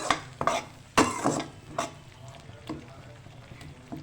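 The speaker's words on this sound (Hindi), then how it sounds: "अब इसको बिल्कुल स्लो आंच पे मैं इसको ऐसे खूब अच्छी तरह भूनूंगी मसाले को।" Spice masala fries over low heat for a potato curry, with a soft background sizzle broken by several sharp clatters and scrapes as a spoon stirs it in the pan.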